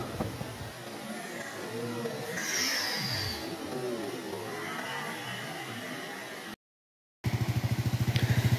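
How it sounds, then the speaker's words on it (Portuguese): A motorcycle engine runs while the bike stands in a stream, under a steady wash of flowing water; after a brief silent gap, a loud, low, even engine drone comes up close. "eu posicionando a moto aí dentro do riacho para ver o que é que dá"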